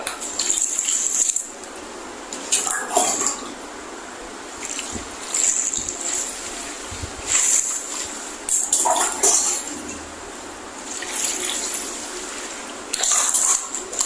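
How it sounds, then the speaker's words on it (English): Ordinary water is added to a wig treatment and mixed by hand, producing sloshing, trickling and splashing in repeated bursts with a steady watery hiss between them, close and fairly loud, with no talking. "So I will add my ordinary water to it to mix it together."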